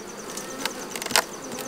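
Honey bees buzzing around honey supers being removed from a hive, a steady high insect drone with individual bees whizzing close past in short swells.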